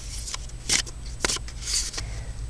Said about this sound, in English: So just shuffle these up a little bit.